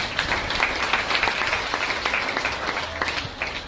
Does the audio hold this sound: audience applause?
yes